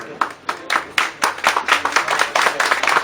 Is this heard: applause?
yes